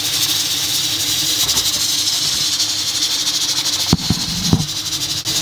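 A pressure cooker of braised pork ribs, heated on high until the pressure builds, lets out a loud, continuous hiss of escaping steam, with a few brief knocks and rattles toward the end.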